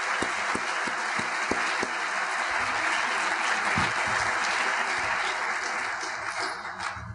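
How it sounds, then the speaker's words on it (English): Audience at a community tech summit applauds the evening's community presenters: steady, dense clapping from a crowd throughout, with a few sharp low thumps early on and a gradual fade at the end. "give a round of applause for our community presenters tonight"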